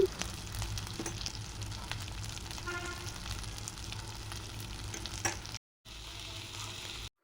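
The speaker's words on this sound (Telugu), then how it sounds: "శనగపప్పు యాడ్ చేసిన తర్వాత రెండు నిమిషాల పాటు మీడియం ఫ్లేమ్లో వేయించుకోవాలి" Chana dal frying in a pan over a medium flame, a steady close crackling sizzle with scattered pops and occasional stirring scrapes, continuing alone before a brief drop to silence near the end.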